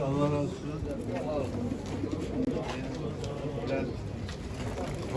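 Pigeons and other birds coo and call together at a busy, crowded Istanbul bird market, with people talking nearby throughout.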